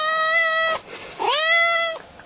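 A cat meows loudly twice, two long drawn-out, strained calls with a short gap between them, close up.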